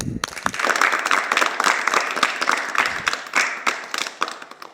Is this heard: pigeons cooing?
no